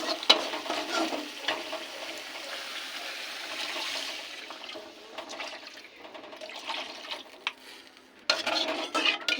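Spice paste for a Bengali fish curry sizzles gently in a pan as it is stirred and fried, soft scraping strokes over a low crackle, close and fairly quiet, with no voices.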